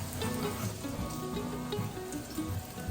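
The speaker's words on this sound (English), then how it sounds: "added extra avocado oil so they fry better" Eggplant frying in avocado oil with a steady close sizzle and crackle throughout, alongside peppers being prepared for a crispy fried eggplant salad; no talking.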